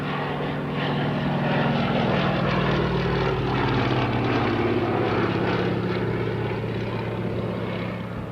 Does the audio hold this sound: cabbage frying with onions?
no